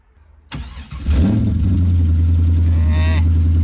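A car with an exhaust manifold leak cranks briefly, catches after about half a second, and settles into a loud, steady idle heard up close.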